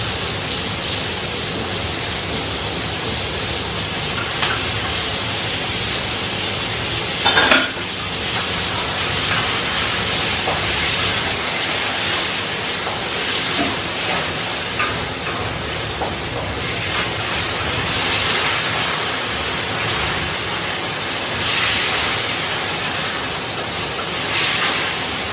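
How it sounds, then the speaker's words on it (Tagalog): Ingredients for crispy pancit, including chicken liver, being sautéed in a pan, a constant broad sizzle heard close and loud throughout, with a few brief clatters from utensils. "Ayan, siyempre, gigisa rin natin to."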